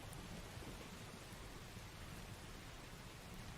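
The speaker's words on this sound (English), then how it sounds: "Can you hear the rain?" Steady rainfall, a dense even hiss of drops with a low rumbling undertone, continuous and fairly soft with no talking.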